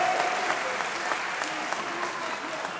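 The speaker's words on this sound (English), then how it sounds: "Listen to this crowd." Crowd at a live wrestling match cheering and applauding, a dense, sustained roar of clapping and shouting with sharp individual claps popping out, heard under a commentator's voice.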